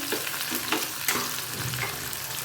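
Chopped onions, about half a cup, tipped into hot oil and frying with a steady broad sizzle and a few stirring scrapes, close and moderately loud, with no talk.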